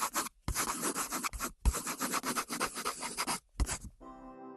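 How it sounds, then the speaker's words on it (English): A pencil scratches across paper in quick, busy strokes with brief pauses between bursts, close and clear, ending with a faint hum. "It was a pencil writing on paper."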